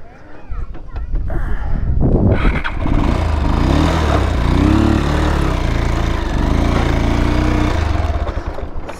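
A motorcycle engine drones loud and close on an off-road ride near a bridge, revving and grinding unevenly for several seconds with rough low rumble and wind buffeting.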